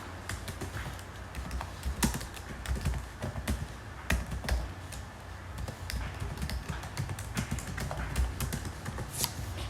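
Rapid, irregular clicks of a computer keyboard as text is typed, close and fairly quiet, with short pauses between bursts of keystrokes.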